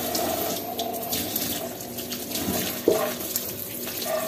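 Water runs steadily from a household tap into a sink, a continuous close splash with a small knock partway through and no talking.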